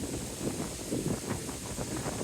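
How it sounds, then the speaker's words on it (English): Steady wind buffets the microphone, a rough low rumble gusting continuously for a couple of seconds with no other sounds. "Oh, it's so bad, it's so windy."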